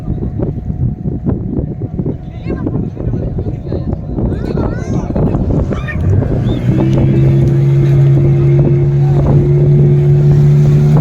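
A motorboat engine runs at sea off the Goa coast on a dolphin-watching trip, a steady, droning hum with a tone that firms up midway, while people talk loudly over it and wind buffets the microphone.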